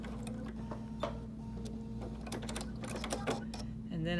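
A sewing machine stitches along a drawn line on a quilt block, a continuous close mechanical hum with ticking clatter, under a low drone and occasional faint voice.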